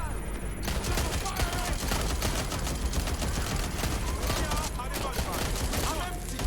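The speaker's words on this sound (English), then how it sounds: "Problem is they're shooting with real bullets," Gunfire in the video game Watch Dogs Legion: dense, continuous rapid shots and bursts crackle loudly throughout, with a faint voice underneath.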